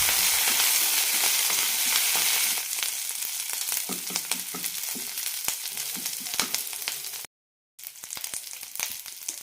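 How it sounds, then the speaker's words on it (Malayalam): Garlic, shallots and curry leaves fry in a pan for bitter gourd chammanthi powder, giving a loud, steady sizzle close by. Light stirring scrapes run through it, and there is a brief silent gap near the end. "1 മിനിറ്റ് നന്നായി വറുത്തെടുക്കാം."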